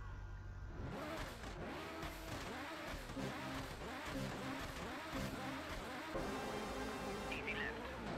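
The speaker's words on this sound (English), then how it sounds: "this Nissan Skyline, has the same sort of livery" A Nissan Skyline engine in the rally racing video game Rallisport Challenge revs in repeated rising and falling surges, a steady mid-pitched drone with gear changes at moderate volume.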